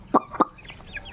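Chickens cluck in two sharp, close calls early on, followed by softer, higher chirps from chicks in the background.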